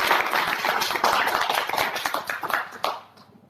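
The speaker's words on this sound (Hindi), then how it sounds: "एक बार मैं चाहूंगा जोरदार तालियां हो जाए।" An audience at a direct-selling business seminar in India claps loudly and densely for about three seconds, the clapping thinning out and fading near the end.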